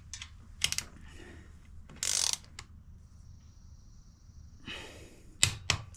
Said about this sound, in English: These guys right here, we're going to tighten them to 20 foot-pounds. And I have my torque wrench already preset.